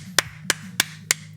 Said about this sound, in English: Can we all give a round of applause for Mojang?